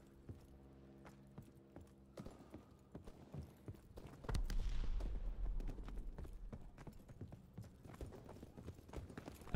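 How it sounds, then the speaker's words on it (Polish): Footsteps from a Call of Duty match on PS4, a steady run of quiet rapid steps through headphones, joined midway by a louder rumbling burst of game action that continues underneath. "na serio słychać w tych słuchawkach kroki"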